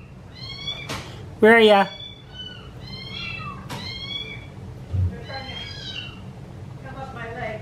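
Kittens aged five to six weeks meowing in thin, high repeated cries, several overlapping, close by; a person talks briefly and calls to them amid the mewing.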